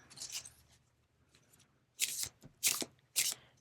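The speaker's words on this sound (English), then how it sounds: "Giving the cards a quick shuffle." A deck of cards riffled and shuffled in a few quick bursts, soft at first, then three crisp, loud riffles close by.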